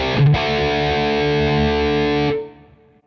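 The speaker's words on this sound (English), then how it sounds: "this is what just the Ribbon 4038 sounds like" Distorted electric guitar heard through a Steve Stevens cabinet impulse response captured with a Ribbon 4038 mic: one loud, sustained crunchy chord held for about two seconds, then fading out, with no talk.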